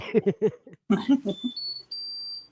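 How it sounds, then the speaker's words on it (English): A 3D printer sounds a steady electronic beep when a print finishes, a thin high tone held for about a second after a few words of nearby conversation. "Yeah, I heard that beep, beep, beep, beep."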